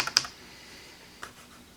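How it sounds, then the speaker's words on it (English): A few quick keystrokes on a Dell XPS M2010 Bluetooth keyboard, close and quiet: a short burst of clicks, then a single tap after a pause. "Keyboard is working."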